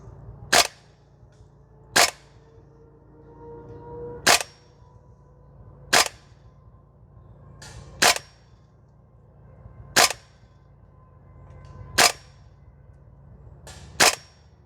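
Gas blowback airsoft rifle, a Guns Modify SCAR L, fired outdoors at range targets: eight sharp, loud shots spaced about two seconds apart, each with a crisp mechanical report, over quiet ambient noise.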